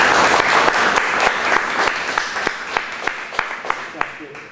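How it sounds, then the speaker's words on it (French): Following a seminar talk on Homer, the audience bursts into loud, dense applause that gradually thins toward a few scattered individual claps, with faint voices underneath. "Mais je voudrais qu'on t'applaudisse d'abord."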